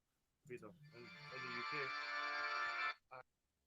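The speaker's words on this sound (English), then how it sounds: "Yeah, it was my ringtone." A mobile phone ringtone plays loud and steady for about two seconds, a bright sustained tone, with a voice talking just before it starts and briefly again after it stops, outdoors in a kirkyard.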